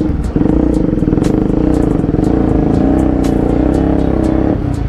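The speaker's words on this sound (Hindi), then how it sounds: "अभी मैं एक ही गियर में चला रहा हूँ अपनी बाइक को" Motorcycle with a loud aftermarket exhaust held in a single gear, its engine droning steadily and close for nearly five seconds with rapid firing pulses and a faint rattle over the top.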